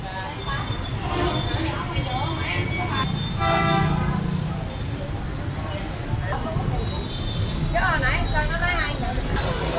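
Busy street traffic at a local market in District 1, Ho Chi Minh City, with a steady rumble of motorbikes and cars and several short horn toots scattered throughout, while voices chatter nearby.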